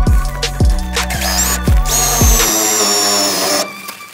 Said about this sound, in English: And just to help close in that gap, I'm gonna put a screw in.